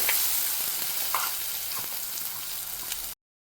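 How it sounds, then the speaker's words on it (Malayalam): Loud, crackling sizzle of a ground masala paste for Kerala mackerel curry frying in hot oil with mustard seeds, continuous and close, with some stirring scrapes before it cuts off abruptly. "ഒന്ന് മൂത്ത് വരുമ്പോഴേക്കും നമ്മുടെ അരപ്പൊന്ന് ആഡ് ചെയ്യാം."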